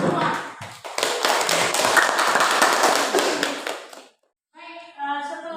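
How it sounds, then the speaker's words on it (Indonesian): Students in a classroom clap together in a dense burst of applause that lasts about three seconds, then a voice speaks after a short pause. "Tepuk tangan buat semua."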